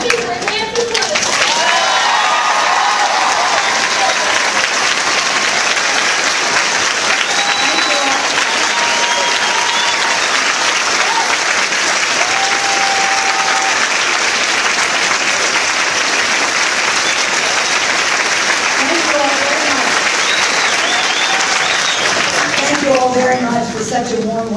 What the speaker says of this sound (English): Let's give a big round of applause to the woman who broke the marble ceiling on Capitol Hill.